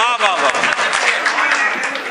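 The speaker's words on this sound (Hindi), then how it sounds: "एक बार जोरदार तालियां पूरे डाइस के लिए आप बजाएं" At a poetry mushaira in Meerut, the audience bursts into loud, sustained applause for everyone seated on the dais, the dense clapping mixed with voices and cheers.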